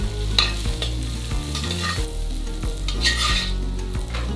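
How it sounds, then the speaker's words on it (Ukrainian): Raisins frying in butter in a wok while being stirred: a steady close sizzle with repeated scraping and clinking strokes of the utensil, with no voices. "У воці на вершковому маслі підсмажуємо родзинки, перемішуємо"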